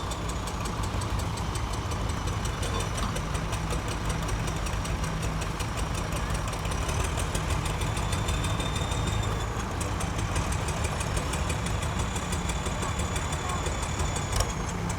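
A tractor engine idling steadily while stuck, a constant mid-pitched mechanical drone with a fast regular ticking, heard at a moderate distance outdoors with no clear talk.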